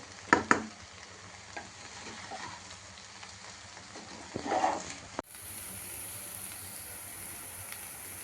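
Meal maker soy chunks frying in a pan, a steady moderate sizzle with a few sharp utensil clinks and stirring scrapes near the start, then the sound cuts to a quieter even hiss.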